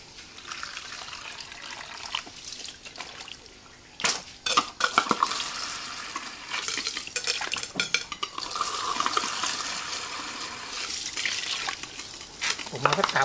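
Tile grout mixed with water is stirred in a container, a close, ongoing wet scraping and clinking that grows busier and denser after the first few seconds.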